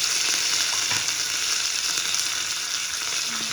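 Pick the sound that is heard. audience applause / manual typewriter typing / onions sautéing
onions sautéing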